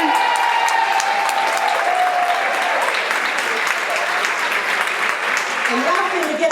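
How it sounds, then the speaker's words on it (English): A live poetry play audience claps and cheers in a sustained, full wash of applause, with some crowd noise and faint voices mixed in throughout. "Get on your feet and start clapping."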